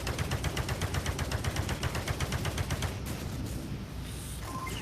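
Rapid gunfire in the VR game Space Pirate Trainer DX, a fast regular burst of sharp, even shots repeating for about three seconds before thinning into a denser, steady wash of fire.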